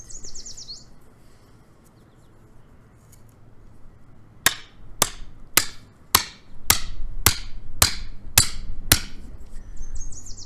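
Survey stakes hammered into the ground: about eight sharp, evenly spaced blows in a steady rhythm, loud and close, with a few faint bird chirps before them.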